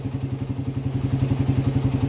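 A motorcycle engine fitted with a 28mm Keihin carburetor runs steadily close by, with a rhythmic, even pulsing idle and no talk.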